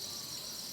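Crickets at a Thai insect farm give a continuous high-pitched shrill trill, steady and dense, with no voices present.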